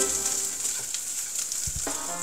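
Shrimp stir-frying in a hot pan gives a steady, even sizzle throughout, with a couple of soft utensil knocks near the end.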